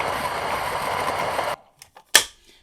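Electric burr grinder milling an 18-gram dose of Ethiopia Wush Wush coffee beans for espresso, a steady loud whirring grind for about a second and a half that stops abruptly, followed by a few faint clicks and a brief sharp knock.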